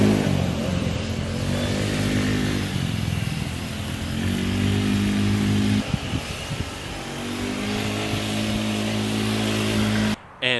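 A Honda Ruckus moped being ridden in a yard buzzes steadily up close, its small engine rising and dipping in pitch as the throttle changes, then cutting out abruptly near the end.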